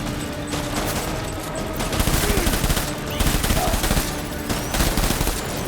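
Rapid gunfire in the Death Stranding video game, shots aimed at a rock, bursting in loud, dense volleys with brief pauses between them.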